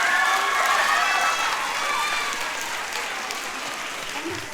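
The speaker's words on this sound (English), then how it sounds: "Give them a big round of applause." A crowd at a family gathering applauds and cheers after a dance, loud clapping and excited voices at first that slowly fade over a few seconds.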